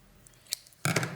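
Scissors or cutters snip through a 3DS AC adapter cable during a repair, giving one small click followed by a louder, close crunching cut lasting a fraction of a second.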